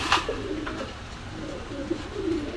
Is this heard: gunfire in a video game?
no